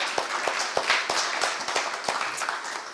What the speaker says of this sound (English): Let's give them another round of applause for giving up their time,